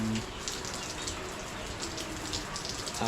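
Heavy rain pours steadily beside a small flooding creek, a dense, even wash of drops and rushing water filling the whole scene at close range without a break.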